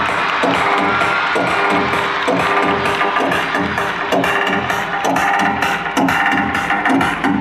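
A large crowd at the Rais High School and Junior College annual function applauds and cheers for the opening of an engineering college, producing a dense, loud, continuous roar with scattered claps.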